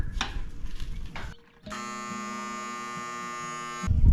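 A septic pump float alarm buzzes steadily and loudly for over two seconds during a test of the system, starting after a short pause and cutting off as other noise returns.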